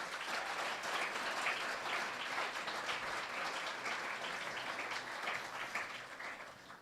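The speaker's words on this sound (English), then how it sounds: "but I want a round of applause for them." Loud, dense applause from a large audience at the European Young Chef Award 2023 ceremony, with many hands clapping in a full, sustained roar for nearly seven seconds before easing slightly at the end.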